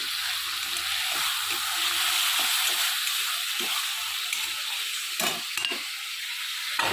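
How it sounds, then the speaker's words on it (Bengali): Pressure-boiled vegetables hit hot oil with spices in a pan during a prawn and cauliflower curry, giving a loud, steady sizzle and hiss close up, with occasional stirring scrapes and no talk. "যে সবজিগুলো প্রেসারে সেদ্ধ করতে দিয়েছিলাম সেটা আমি ঢেলে দেবো এর মধ্যে মশলার সঙ্গে ভালো করে একটু কষে নেব"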